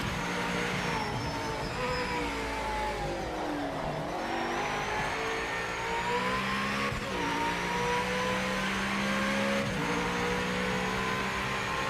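A race car engine in the Project Motor Racing sim revs hard and loud through repeated upshifts and downshifts, with brief tire squeal, heard steadily from close by.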